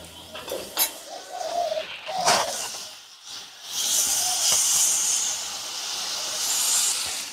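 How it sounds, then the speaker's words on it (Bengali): Water poured into a hot pan of fried cabbage sets off a loud, sustained steaming hiss after a few clanks of utensils, the sizzle rising sharply and then holding steady. "বাঁধাকপি আমি ভালো করে ভেজে নিয়েছি। এবার আমি পরিমাণ মতন জল দিয়ে দেবো।"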